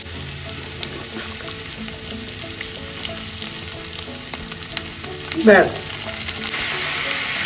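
Ginger, garlic and onion paste fries in a pan with a steady, close sizzling hiss, a brief clatter of stirring midway, and a short spoken word.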